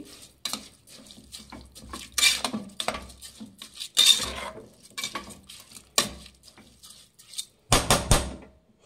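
Rice for plain kushka is fried with spices in a pot, stirred in bursts of loud, close scraping and clinking of a spoon against the metal, with brief quiet gaps between strokes.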